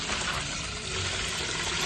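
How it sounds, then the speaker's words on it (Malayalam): Water is tipped out of a container while a fish pond is cleaned, making a continuous splashing rush for about two seconds. "വെള്ളം നമുക്കങ്ങ് കമത്താം."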